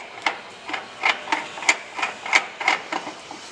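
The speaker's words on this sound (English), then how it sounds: "You'll need to thread on this nut onto the winch box itself." A nut is threaded by hand onto a winch box from a Lift Boss install kit, making a quick run of about a dozen close, crisp metallic clicks and scrapes in a loose rhythm.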